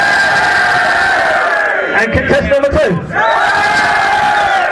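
A large live crowd at a gaming event roars and cheers for a contestant, loud and sustained throughout, briefly dipping while someone speaks over a microphone before the roar swells again.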